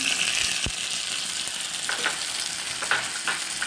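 Ginger, green chili and curry leaves sizzling in hot coconut oil in a pan, a steady close frying hiss throughout with occasional sharper pops and stirring scrapes.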